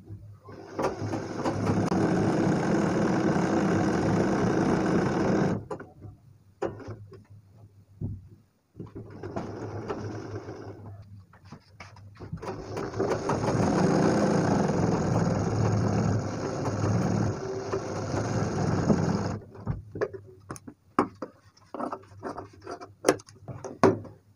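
A sewing machine stitches a seam on a designer blouse in a steady, close whirring run for about five seconds, then a brief burst. A longer continuous run follows before the motor stops, leaving scattered handling clicks.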